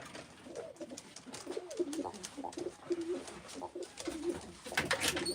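Pigeons cooing nearby in repeated soft, throaty calls, with faint background noise and a louder rustle near the end.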